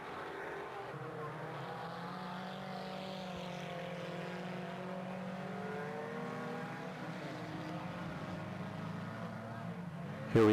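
Four-cylinder street stock race cars roar around a track in a hilly area of central New York, their layered engine drones rising and falling in pitch as they pass, loud and continuous throughout.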